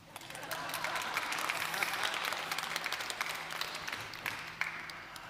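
Audience applause at a global tourism resilience forum, a dense, even wash of many hands clapping that holds steady for several seconds, with faint voices mixed underneath.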